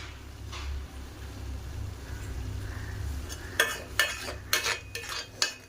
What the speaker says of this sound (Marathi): असं बाजूने तेल सुटायला लागलं की समजायचं आपला मसाला छान परतलेला आहे.